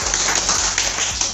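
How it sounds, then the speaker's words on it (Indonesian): An audience applauds for Nagaya, a dense, steady wash of clapping that stays even and fairly close from start to finish with no clear break. "Tepuk tangan dulu dong untuk Nagaya."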